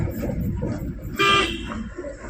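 A car honks while travelling a winding, cliff-edged mountain road on the way to Bhutan, with a vehicle from Sikkim approaching. A single clear horn blast sounds midway over a steady engine and road rumble.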